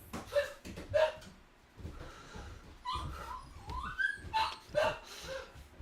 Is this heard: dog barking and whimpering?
yes